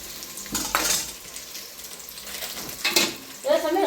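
Sliced onions fry in a pan with masala spices, sizzling softly as a spoon scrapes and clinks against the metal in a few distinct strokes, with quiet room noise around them.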